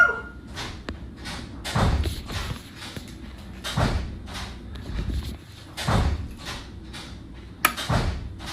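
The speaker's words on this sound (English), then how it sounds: "I wish this ghost would stop slamming the door over and over and over again" A door slams again and again in a roughly regular rhythm, about once every second or so, each heavy thud ringing briefly in a quiet room before the next hit.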